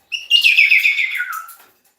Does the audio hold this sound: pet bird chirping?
yes